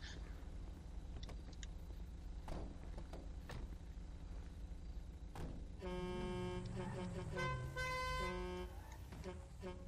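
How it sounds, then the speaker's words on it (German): Car horns honking inside GTA V Online, a short toot early on followed by a series of melodic multi-tone horn blasts in the latter half, with players talking over the game sounds. "Aber es sind schöne Serienhupen."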